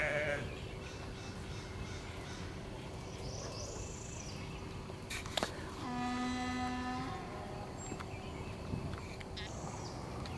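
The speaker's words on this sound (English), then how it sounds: "Oh, the sheep are all out there grazing." Sheep grazing in a field bleat a few times at a distance, separate calls over a soft outdoor background with no talking.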